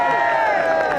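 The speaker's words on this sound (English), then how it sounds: "crowds cheered for Reggie as he left to go back to prison" A crowd cheers and calls out for Reggie Kray as he leaves to return to prison, a dense, steady roar of voices with shouts rising over it, close and continuous.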